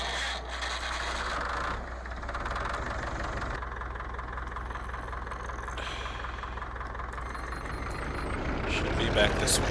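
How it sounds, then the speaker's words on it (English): A loud tractor engine idles and rumbles steadily in a Polish farming video game with mods, a constant low drone with faint mechanical knocking, while a person talks over it. "Man, that tractor is loud."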